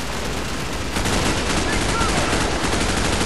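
Sustained automatic gunfire in Call of Duty Modern Warfare Reflex, loud and relentless, a dense stream of shots that thickens after the first second, with faint voices beneath.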